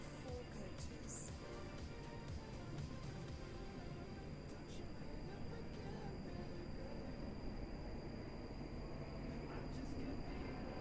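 A four-coach Stepford Express passenger train in a video game rolls along with a steady, close, unbroken rumbling roar that holds at an even level throughout, with no voices.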